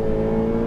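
A Ferrari F8 Tributo engine roars steadily at high revs at full throttle on a racing circuit, a dense sustained drone with no gaps or voices.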